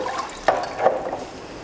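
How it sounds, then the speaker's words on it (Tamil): Water is poured into soaked rice in a cooking pot for mint rice, giving a brief, light splashing and trickling with a couple of sharper splashes, close and moderately quiet. "தண்ணி ஊத்திக்கலாம்."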